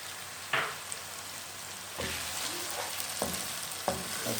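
Small tomato pieces fry with garlic-ginger paste for brinjal bharta, a quiet continuous sizzle broken by a few crisp spatula scrapes and taps as the pan is stirred.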